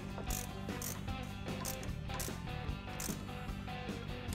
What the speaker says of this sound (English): The nuts on the tie rod brackets can be tightened with a 1/2 inch socket.